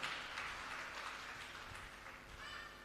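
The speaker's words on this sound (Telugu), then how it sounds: "గట్టిగా చప్పట్లు కొట్టండి," A church congregation claps together in a steady, even wash of applause that sounds faint and distant, with no voices standing out.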